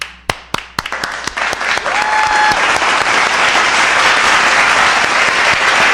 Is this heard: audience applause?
yes